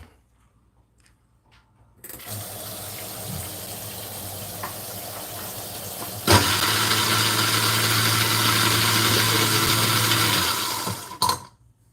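A Deluxe 458 kitchen food waste disposer, after repair of a noisy turntable, whirs on with a steady grinding motor roar that grows louder midway, then shuts off with a clunk.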